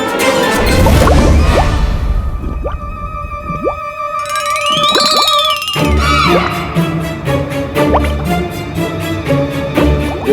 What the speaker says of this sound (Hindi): मेरा पेट गुड़गुड़ गुड़गुड़ कर रहा है महाराज।